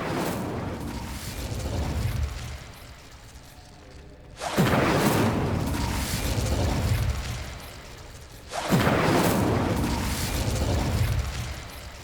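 Fire spells erupt in Hogwarts Legacy, with two loud, sudden whooshing bursts of flame, each roaring on for several seconds before fading back to a steady rumble.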